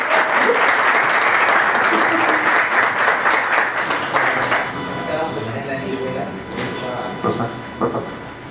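Audience applause at a talk, loud dense clapping for about four seconds that fades into scattered claps, with a voice speaking over the tail.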